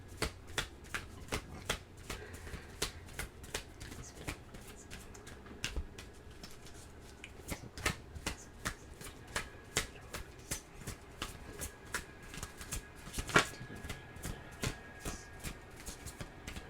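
Tarot cards shuffled close by, a quiet run of crisp riffling snaps repeating at a fairly even pace, alone without speech.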